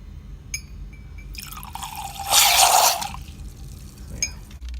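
Water runs into the ice maker of a Samsung refrigerator under strong pressure, rising from scattered drips and clinks to a louder rushing fill near the middle before tapering off again.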